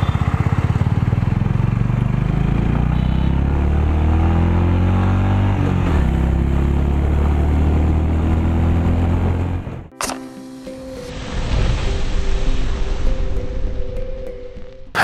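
A Honda H'ness CB350 motorcycle engine revs loudly and up close for about ten seconds, its pitch climbing and falling with the throttle. The sound then cuts off abruptly to quieter outdoor background noise.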